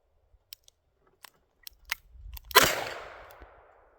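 A revolver chambered in .32 H&R Magnum, .38 Special or .44 Special fires one sharp, loud shot with a ringing decay, preceded by faint clicks and handling taps.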